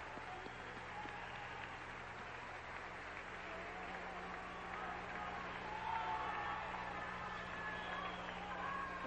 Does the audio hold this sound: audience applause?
yes